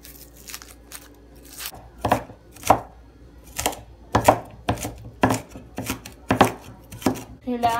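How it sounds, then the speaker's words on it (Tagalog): Knife finely chopping onion on a board, about a dozen sharp, distinct chops in an uneven rhythm, close and fairly loud, with quiet gaps between strokes. "Kailangan kasi durog na durog ang sibuyas."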